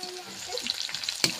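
Large pieces of meat fry in a pan while being cooked down into kosha, a soft steady sizzle with a brief sharp scrape near the end, heard close and without talking.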